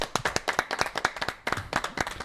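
A studio audience claps together on a French radio car show, a dense, steady patter of many hands close by for a couple of seconds, with no talking over it.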